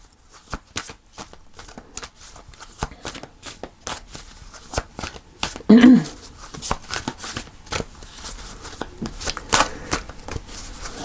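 Tarot cards are shuffled during a reading, a close, quiet run of crisp riffling bursts and irregular card snaps.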